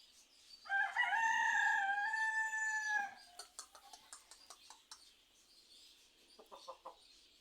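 A shamo stag rooster lets out one loud, drawn-out crow lasting about two seconds, followed by softer clucking and scattered rustling nearby.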